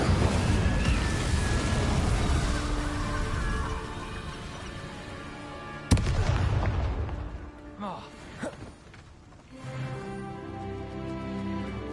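A fire spell is cast in the PS5 game Hogwarts Legacy, giving a dense roaring burst with a sharp crack near the middle, then crackling flames and smaller magical effects fading, with a game score underneath.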